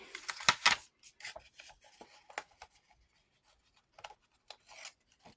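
Scissors snip and trim paper in a handful of quick, close crisp cuts, followed by softer rubbing and handling sounds of paper being worked on a crafting surface.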